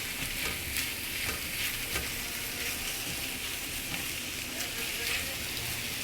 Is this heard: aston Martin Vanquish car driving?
no